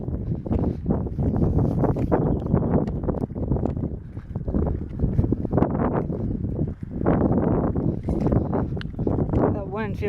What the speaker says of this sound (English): Wind feels amazing.